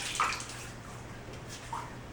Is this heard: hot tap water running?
yes